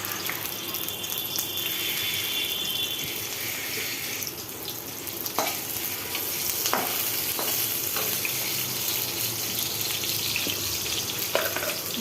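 Onion fries in hot oil in a pan on a cylinder gas stove, giving a loud, dense, continuous sizzle broken by occasional spoon scrapes and taps, with no voices.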